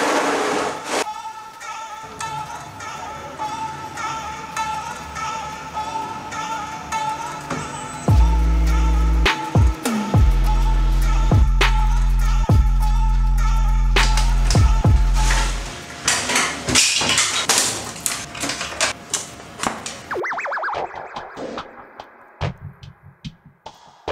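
Laser cutter working through sheets of material in a workshop, steady mechanical whirring and low hum with several sharp clicks and knocks midway, loud and close, then rattling clatter toward the end; no talking.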